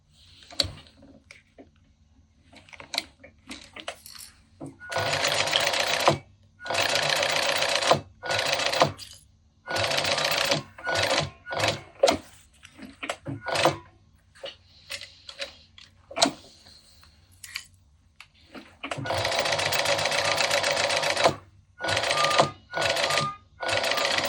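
A sewing machine top stitches a zip in bursts of rapid mechanical whirring, each run stopping and starting, with small clicks and fabric handling between the runs.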